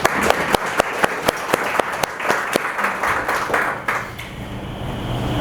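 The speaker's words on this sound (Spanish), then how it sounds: "Un aplauso para el profesor." Audience applause for a professor at a Spanish-language law book discussion event, a burst of clapping with some sharp individual claps standing out, moderately loud throughout.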